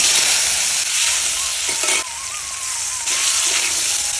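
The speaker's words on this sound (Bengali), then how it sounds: "এখন এই আলুগুলো ভাজে নেবো।" Potatoes frying in oil in a wok after the fish, giving a loud, close, continuous sizzle with a dip and surge midway as they are stirred.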